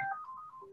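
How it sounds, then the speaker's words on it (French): A mobile phone plays a short electronic ringtone, a few clear high beeping tones sliding between pitches, moderately loud and alone in a quiet room. "Ah non, c'est le téléphone de ma femme, ça"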